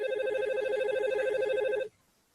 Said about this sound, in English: It is ringing.